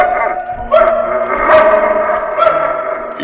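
Sled dogs barking and yipping close by, several overlapping dogs in quick bursts over a continuous noisy background.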